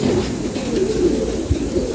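Pigeons coo softly in low, rolling notes, close by, over a steady murmur of background noise, with no talk.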